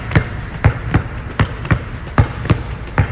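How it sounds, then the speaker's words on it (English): A basketball pounded hard against the floor during a live home workout, seven or eight heavy, evenly spaced bounces in a steady rhythm, close and loud with no talking. "Handle that basketball, pounding it,"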